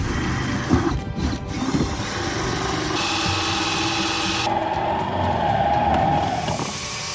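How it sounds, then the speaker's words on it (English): A steady, loud drill whirs continuously with a buzzing motor, its pitch shifting slightly as the bit works through a vehicle cab. "get tooled up and set about drilling the hole"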